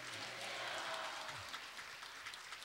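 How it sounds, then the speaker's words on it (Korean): Church congregation clapping together, a soft, fairly distant patter of applause that fades over a couple of seconds. "박수 한번 해주세요"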